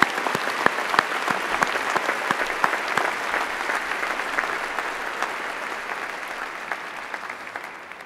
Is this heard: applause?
yes